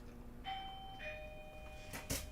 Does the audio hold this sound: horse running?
no